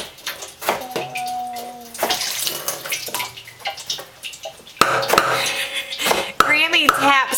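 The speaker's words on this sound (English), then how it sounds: "he keeps banging the cup right there on the corner" A toddler bangs a cup on the corner of a kitchen counter, making a few sharp knocks in the second half among running water, clinking dishes and voices talking.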